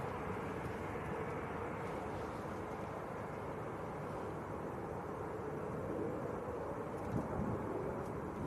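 An Emirates airliner passes at Manchester Airport, a faint, distant, steady engine rumble mixed with outdoor wind noise throughout.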